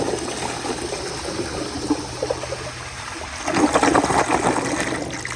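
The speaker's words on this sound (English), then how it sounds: "So here is another flush," A 1992 Apollo ADA toilet flushes at close range, a steady rushing swirl of water through the bowl that surges louder partway through and keeps gushing to the end, with no talk.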